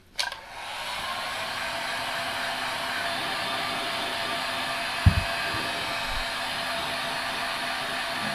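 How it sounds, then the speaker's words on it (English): A hair dryer blows steadily at close range on freshly painted motorbike brake discs, with a broad, continuous whoosh after a brief click on and a couple of faint knocks partway through. "And again, back on with the dryer."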